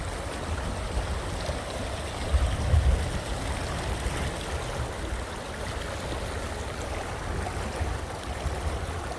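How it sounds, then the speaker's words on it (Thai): Rainwater runoff pours down from a mountain after two hours of heavy rain, making a continuous, even rush of flowing water with a faint low surge partway through. "น้ำไหลมาจากบนภูเขานะครับ"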